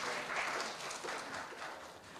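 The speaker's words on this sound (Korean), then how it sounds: "큰 박수 부탁드립니다" Steady applause from a crowd at an awards ceremony, a dense wash of clapping that holds at an even level throughout without a voice above it.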